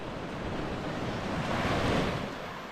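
Rough sea waves roll in at Kargil Beach in Bakkhali, a dense, steady roar of surf with wind buffeting the microphone, swelling slightly toward the end.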